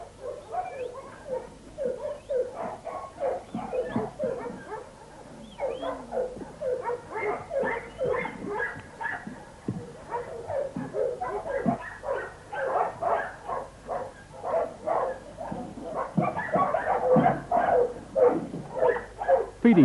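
Farm dogs barking at feeding time on a dog-breeding farm: many dogs yap, bark and whimper continuously in a busy, overlapping chorus, some close and some farther off.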